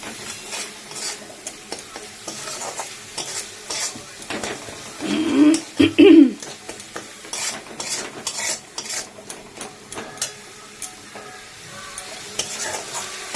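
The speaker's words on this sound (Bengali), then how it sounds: "নুন হলুদ জিরে সব দিয়ে একটু কষিয়ে নিলাম।" Spices such as salt, turmeric and cumin stirred and fried in a pan for pabda fish curry, with steady sizzling and intermittent scraping clinks of a utensil against the pan, close and continuous with no talk.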